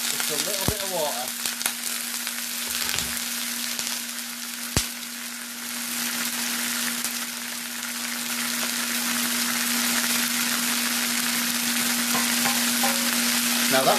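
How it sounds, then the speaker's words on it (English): Onions frying in a hot pan with a splash of water added, a loud, close, steady sizzle with a few stirring clanks, under a constant background hum. "Now that will help your onions to fry and control your temperature a little bit."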